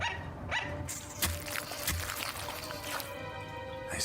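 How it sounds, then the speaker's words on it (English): A dog barks several times in short, sharp bursts over a quiet indoor background, with whimpers and yips mixed in at a moderate distance. "Barking like a dog."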